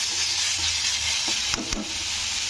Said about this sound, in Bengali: তো আমি আদা রসুনটা দিয়ে ভালো করে একটু এটাকে নাড়তে হবে।